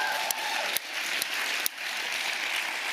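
Applause from an audience at a talk by lawyers about litigation, heard as a continuous, somewhat distant wash of clapping with a few sharp clicks standing out on top.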